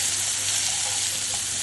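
Finely chopped onion frying in a pan for kanda poha, giving a steady, dense, close sizzle with no breaks and no talking.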